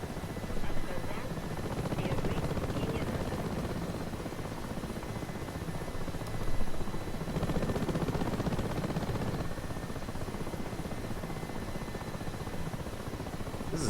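A rotor aircraft in a flight simulator drones steadily with a helicopter-like buzzing hum, continuous and even throughout with slight swells, with no voices.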